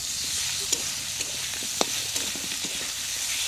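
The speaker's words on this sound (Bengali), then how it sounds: "এবার একটু ভালো করে কষে নিতে হবে।" Spices with chili powder and salt being stir-fried on a wood-fired clay stove, a steady frying hiss with a few sharp scrapes and clicks of a spatula against the pan, alone and close.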